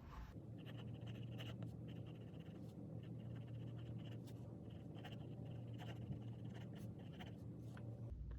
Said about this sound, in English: And now I will write the paragraph to compare.